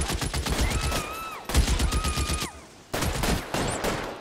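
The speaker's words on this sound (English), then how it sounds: "Ein schönes MG." Machine gun fire in the L.A. Noire remake video game, loud rapid bursts in three stretches separated by brief gaps, with a whining tone sweeping through the first two bursts.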